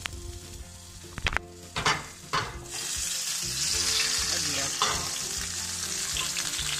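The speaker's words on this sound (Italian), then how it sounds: "Prezzemolo. Facciamo soffriggere un po'." Chopped parsley and garlic cloves sauté in a pan for a mussel pasta sauce, with a steady, loud sizzle and several sharp clinks and stirring scrapes near the start.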